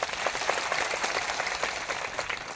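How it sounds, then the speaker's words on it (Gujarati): A crowd at a tribal community gathering claps steadily, a moderately distant wash of many hands sustained without pause and no voices on top. "જોરદાર તાળીઓ પાડી લો."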